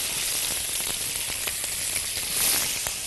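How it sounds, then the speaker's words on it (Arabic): Onions sautéing in butter and oil in a wok give a steady, close, broadband sizzle. A few light clicks of stirring come through, and there is no talk. "ونشوح البصل بقى ونديله لون ذهبي كده لطيف"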